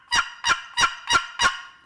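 A turkey call imitating a hen turkey in heat gives five loud, raspy, evenly spaced yelps close up, each one short and sharp, with no talking.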